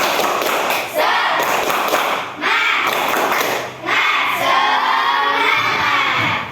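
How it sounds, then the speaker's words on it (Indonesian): Schoolchildren in a class 5 and 6 lesson perform the tepuk semangat clapping chant together, loud rhythmic claps and shouted chanting in a few bursts with brief dips between them, energetic and close. "kita sama-sama yuk tepuk semangat"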